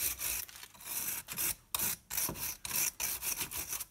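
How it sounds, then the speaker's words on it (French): A small wire brush scrubs rust off a 17 mm nut on a Renault Clio 2, in rapid rhythmic back-and-forth raspy strokes, close and fairly loud, with no talking. "Prenez une petite brosse de fer."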